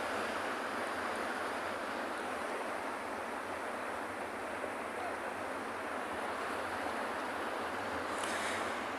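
Ocean surf washing steadily onto a penguin beach, a broad continuous roar of breaking waves mixed with wind, heard alone and fairly loud.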